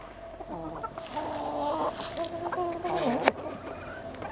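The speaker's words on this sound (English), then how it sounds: "Neighbor's chicken." A neighbor's chicken clucks close by in a short run of rising, nasal calls that swell toward the end, with faint background noise.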